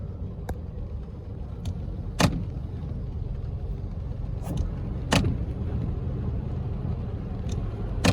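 A car drives along a flooded road in The Gambia with a steady, loud low rumble, broken by a few sharp knocks and thuds.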